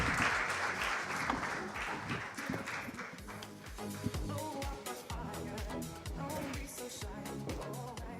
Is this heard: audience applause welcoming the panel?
yes